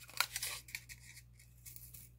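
Cardboard being cut to make a slot, a few close scrapes and snips clustered early, then quieter rasping cuts that fade out.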